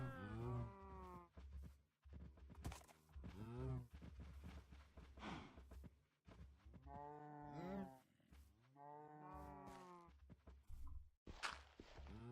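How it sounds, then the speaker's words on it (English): Several cows lowing in Minecraft SevTech Ages, repeated drawn-out moos one after another at moderate volume, with short pauses and faint footsteps between calls. "We got one baby cow and a bunch of cows."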